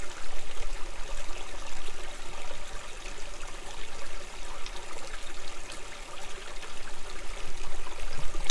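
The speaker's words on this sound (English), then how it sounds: "Pretty little creek." Small forest creek, Carlson Creek, beside a trail campsite, flowing with a steady, continuous babble and trickle close by, with no voices.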